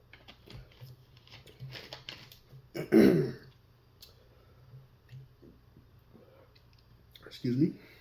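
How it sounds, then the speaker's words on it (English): A couple of short throat-clearing bursts, one loud near the middle and a briefer one near the end, over a quiet room with faint background clicks. "clearing my throat and sniffling a little bit"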